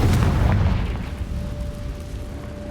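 Confringo fire spell exploding in the Hogwarts Legacy video game, a deep rumbling boom that fades slowly over a few seconds, with a faint tonal hum lingering underneath.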